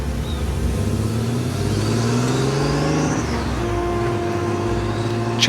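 A car engine hums and rises in pitch as it accelerates, with the drone gliding upward, dipping, and then climbing again as the vehicle drives on. Loud and steady, with no talk.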